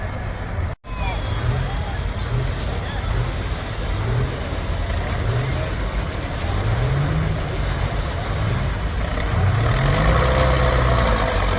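A four-wheel-drive diesel tractor of about 240 to 260 horsepower pulling a sledge at a steam rally, its engine droning steadily and rising in bursts, with a crowd murmuring in the background.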